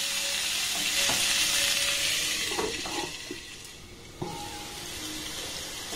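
Potatoes sautéing with spice masala in a pan give a steady close sizzle and hiss, with a few scraping stirs. The frying noise fades slightly midway, then holds steady to the end.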